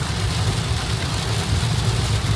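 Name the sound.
heavy rain during car road trip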